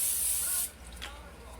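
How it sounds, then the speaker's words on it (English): An olive oil cooking spray can gives one close, steady hissing burst that cuts off abruptly after about half a second, followed by quiet kitchen room tone. "Olive oil spray here"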